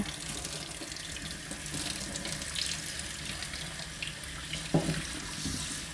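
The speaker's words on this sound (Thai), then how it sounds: "ให้น้ำไหลผ่านอย่างเงี้ยค่ะ ให้น้ำไหลผ่านลงไปเรื่อยๆนะคะ" Tap water runs steadily into a sink, splashing over bunches of grapes held beneath the stream, with a brief clunk near the end.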